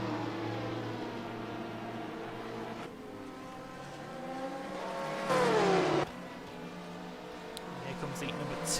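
A sports prototype race car accelerates toward the final corner in the World Sports Car Challenge racing game at Portimao, the engine note climbing steadily through gear changes with a brief louder surge.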